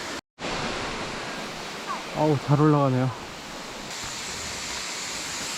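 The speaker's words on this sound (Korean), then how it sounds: "1층에 폭포가 보이고요. 이 폭포는 절경입니다." A waterfall in the Langkawi forest pours in a steady, broad rushing roar, while someone briefly talks over it in the middle.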